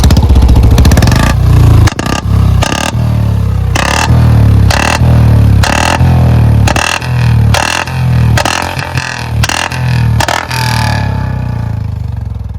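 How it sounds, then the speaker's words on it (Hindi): A Royal Enfield Bullet Standard 350 exhaust with an L-bend pipe revs and crackles with a rapid series of loud backfire pops between throttle blips, close by. "पटाखे तो भाई वो भी अच्छी खासी मारता है"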